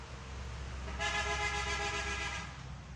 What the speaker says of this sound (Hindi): खाली रोड पे हॉर्न बजाने वालों, तुम लोगों को अल्लाह ही पूछेगा